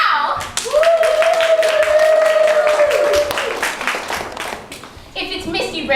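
A live studio audience at a camp show cheers and claps loudly and continuously, with whistles and shouts rising over the crowd, then the roar thins toward the end.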